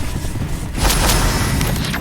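Hogwarts Legacy Incendio fire spell cast in a video game: a broadband whooshing burst erupts about three quarters in, with booming, crackling flame bursts continuing loudly over a dense game soundscape.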